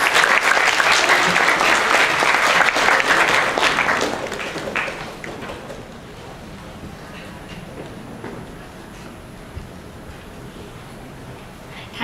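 An audience at an S-Booster 2019 guidance event breaks into a burst of hearty applause that fades after about four seconds into thinner scattered clapping and a quiet room.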